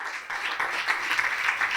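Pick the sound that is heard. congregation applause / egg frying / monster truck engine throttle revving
congregation applause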